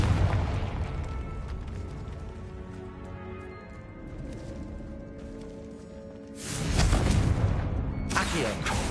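A Confringo fire-blast spell in Hogwarts Legacy bursts with a sudden loud, broad explosion after a stretch of quieter rumbling game ambience, followed by a second blast near the end.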